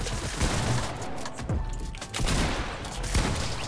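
Rapid, loud gunfire bursts from the video game Fortnite fill the clip almost continuously, with sharp repeated shots and no talking.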